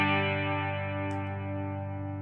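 Clean, dry strings ring out on an Ibanez AX7221 seven-string electric guitar with chorus and reverb switched off, a sustained chord decaying steadily over about two seconds with no talk.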